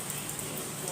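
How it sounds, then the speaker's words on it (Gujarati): Rain falling steadily outdoors, a soft, even hiss of drops that stays faint and continuous for about a second with no talking. "વરસાદ પડી રહ્યો છે."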